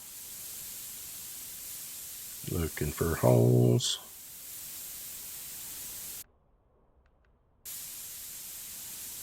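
Steady hissing spray of goop from a spray can onto a junk car, running for several seconds, briefly cutting out, then resuming, with someone talking over part of it.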